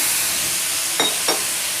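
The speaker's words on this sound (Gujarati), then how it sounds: "પછી તેની ઉપર પાણી નાખી અને તેનું ટેમ્પરેચર ડાઉન કરી લઈશું" Water hitting a hot dosa griddle gives a steady steamy hiss, with two short, sharper sizzling spurts close together near the middle, heard alone.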